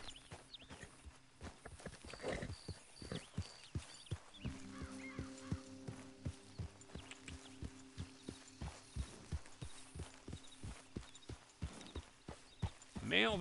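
Rhythmic hoof clip-clops of a horse moving at a steady pace in Red Dead Redemption 2, with a tonal hum and occasional other sounds in the background; fairly quiet overall.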